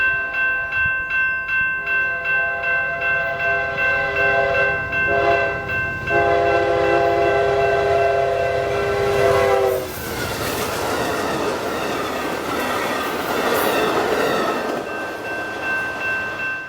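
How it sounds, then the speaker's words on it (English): Amtrak 353, a westbound passenger train led by a P42 locomotive, passes loudly and close by on the Michigan Line, sounding a sustained chorded horn before the rumbling, clattering roar of the cars takes over. "a westbound train, Amtrak 353, got lined, which to my surprise and delight had a P42 leader"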